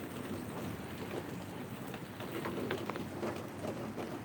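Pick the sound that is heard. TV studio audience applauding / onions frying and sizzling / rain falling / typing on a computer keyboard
rain falling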